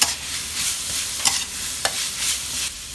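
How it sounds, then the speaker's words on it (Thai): Minced pork with holy basil and bamboo shoots is stir-fried dry without water, a loud, close sizzle with rhythmic scraping strokes of the spatula every second or so. "เราก็จะผัดคลุกเคล้าไปเรื่อยๆค่ะแล้วก็ให้ทุกอย่างให้ส่วนผสมทุกอย่างเนี่ยเข้ากัน"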